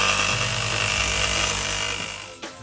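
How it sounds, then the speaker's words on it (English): Cordless jigsaw cutting a hole through a van roof, a buzzing reciprocating saw that runs steadily for about two seconds and then stops, heard close with no talk. "Jigsaw time."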